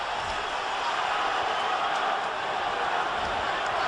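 A boxing arena crowd during the Pacquiao vs Mosley fight sends up a dense, steady roar of cheering, a wide, even wash of many distant voices that holds without a break.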